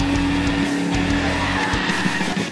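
A loud, continuous roar from a Jeep Grand Cherokee Trackhawk's supercharged 6.2-liter Hemi V8, with a steady high supercharger whine on top, the powerful motor revving hard without a break.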